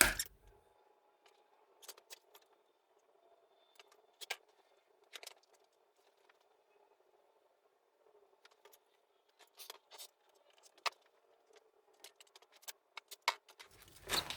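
Folded quilting fabric being cut gives scattered, faint snips and small clicks spread unevenly over a quiet background, with a few sharper cuts near the start and toward the end. No one speaks.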